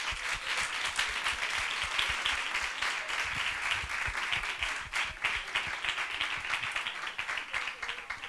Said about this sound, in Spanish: creo que un aplauso para despedirlo